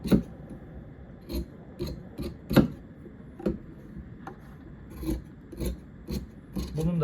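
Fabric for a sport jacket being cut with scissors, a series of sharp irregular snipping and rasping strokes, close and fairly quiet, separated by short pauses.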